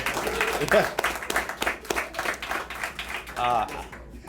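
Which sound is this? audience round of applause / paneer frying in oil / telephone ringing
audience round of applause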